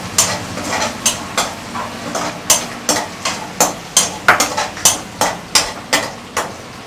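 Apollo fish pieces frying in a pan, with a steady sizzle and a regular run of sharp knocks or stirring strikes repeating roughly every half second, close and fairly loud, with no talk.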